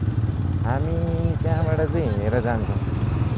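A motorcycle engine drones steadily at close range while riding through Dolakha, a continuous low rumble running beneath someone talking throughout.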